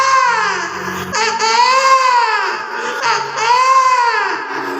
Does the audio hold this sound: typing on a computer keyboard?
no